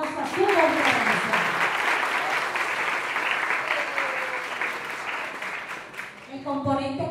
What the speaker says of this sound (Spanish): Así que fuerte el aplauso a su gobierno